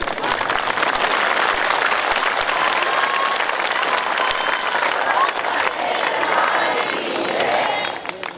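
Sustained applause from an audience at a large religious gathering in Nangal, dense steady clapping filling the whole stretch at an even, loud level.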